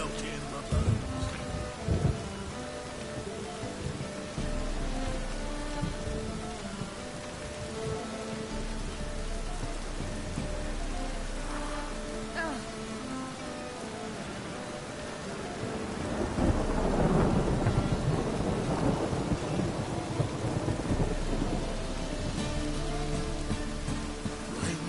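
Steady rain hisses in a thunderstorm in The Witcher video game, with rolling thunder building to a louder swell midway through a continuous stretch of about twenty-five seconds, with no talking.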